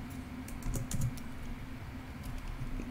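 Fingers tap a computer keyboard in a soft, quick patter of keystrokes, close and steady over a humming background.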